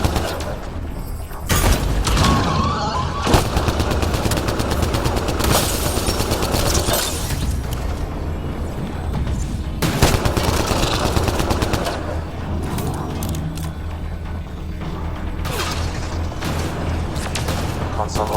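Heavy gunfire fills a firefight in the video game Mass Effect Andromeda: dense, rapid automatic bursts and single shots, loud and close, continuing almost without pause, with scattered impacts and booms.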